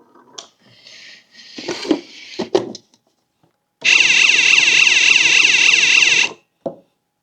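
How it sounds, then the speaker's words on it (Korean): A warning light's built-in buzzer blares a loud steady electronic alarm tone for a couple of seconds after some short clattering and rustling noises, then cuts off abruptly. "제품에 따라 부저가 함께 들어간 경광등도 있습니다."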